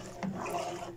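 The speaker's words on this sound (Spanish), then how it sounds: "vamos a enjuagar la botella" Water sloshes and splashes inside a plastic fabric softener bottle as it is rinsed, a short, steady wet rustle with a couple of brief louder bursts, heard close up with no talking.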